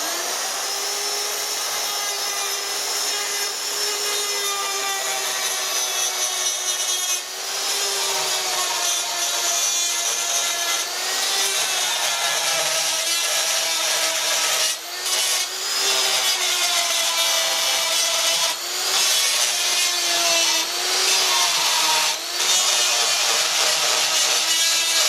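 A rotary burr in a die grinder cleans up an aluminium alloy weld, giving a steady, loud, high-pitched grinding whine that runs continuously with slight pitch wobbles and brief dips as the tool bites.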